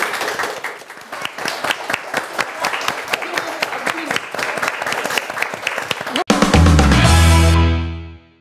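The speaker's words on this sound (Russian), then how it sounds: "Спасибо большое, аплодируем вам." Studio audience applauding on a talk show, a full, sustained burst of many hands clapping for about six seconds, then cut off by a short musical sting that rings out and fades.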